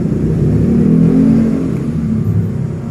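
A custom chopper motorcycle engine revs loudly and close by, a deep steady rumble that swells and eases over a few seconds, with no voices.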